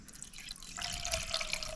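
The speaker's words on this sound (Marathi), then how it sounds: "आत्ताच आपल्याला ह्याच्यात हे पाणी ओतून घ्यायचं आहे" Water is poured into a pot of cooked lentils, starting partway through as a steady splashing trickle that runs to the end, close by.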